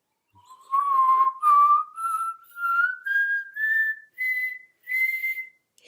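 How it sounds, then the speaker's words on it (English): A single person whistles a string of short, clear notes in broken bursts, each pitched slightly higher than the last, drawn in on the breath. "I could actually whistle by inhaling as well"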